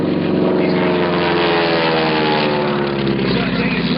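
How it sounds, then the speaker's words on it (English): A North American Texan advanced trainer propeller plane flying at the 2012 Indianapolis Air Show at Mt. Pleasant Airport, its loud, steady, buzzing engine and propeller drone close and continuous throughout. "Jim Lavelle, in his North American Texan aircraft, this is the advanced trainer, the pilot maker"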